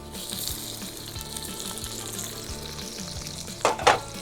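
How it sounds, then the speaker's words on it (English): Onion sizzling steadily in a couple tablespoons of sunflower oil for a miso chicken stir-fry, a continuous close frying hiss, with a brief louder burst near the end, no talking. "I'm going to be putting the onion in first"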